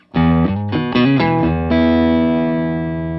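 An electric guitar plays through a Fender Hot Rod Deville amp with the middle control turned all the way down and the Tube Screamer off, giving a few picked notes and then a loud, ringing chord that sustains and slowly decays.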